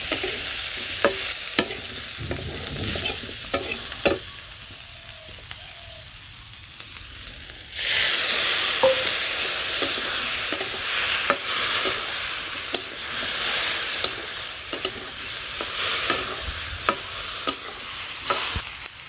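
Spices with green chilli and turmeric stir-fried in a pan, a loud continuous sizzle with repeated scraping stirs that grows fuller and brighter partway through, running steadily with no voices.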